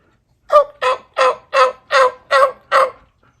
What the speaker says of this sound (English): Oh, he gobbled again.